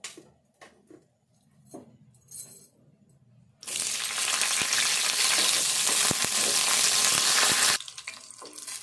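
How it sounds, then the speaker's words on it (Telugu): Green chillies fry in a spoonful of oil for a pounded ridge gourd chutney: a loud, steady sizzle bursts in after light kitchen clatter, holds for about four seconds, then cuts off. "ఫస్ట్ పచ్చిమిర్చి వేపుకుందాము."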